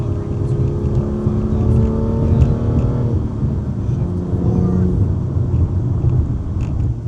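BMW M2 engine holding steady revs around 4,000 to 5,000 RPM on a twisty road, a loud continuous droning rumble with rising and falling harmonic tones as the car drives, with a few brief shifts in pitch.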